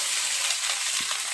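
Peas tipped into hot spiced oil in a pan for matar kachori filling, a steady bright sizzle filling the short stretch with a soft thud partway through, close and loud with no voices.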